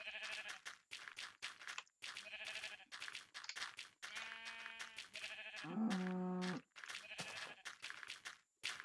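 Blocky farm animals in Minecraft call repeatedly, a run of short bleating moos in uneven bursts separated by brief gaps, fairly close and clear, with one longer, lower call near the end and no talk.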